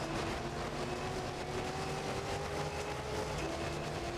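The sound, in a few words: F688/S race car engine in Gran Turismo 3 video game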